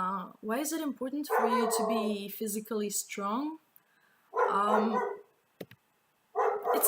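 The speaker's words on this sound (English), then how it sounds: "Sorry for the barking." A dog barks in short bursts indoors while a person talks close by.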